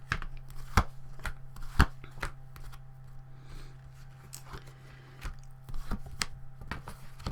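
Soft papery riffling and light taps of tarot cards being shuffled, with a few sharper clicks, steady and close against a low background hum.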